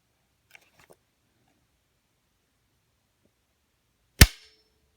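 Savage 10TR .308 rifle with AccuTrigger dry-fired on a snap cap: a single sharp, crisp metallic click near the end, preceded by faint handling rustles and otherwise quiet.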